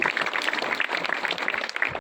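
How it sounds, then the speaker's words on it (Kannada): A crowd applauding a student who won first place in Bharatanatyam at a school talent competition, with dense, steady clapping that is fairly loud and stops abruptly after about two seconds. "ಜೋರಾದ ಚಪ್ಪಾಳೆ ಬರಲಿ"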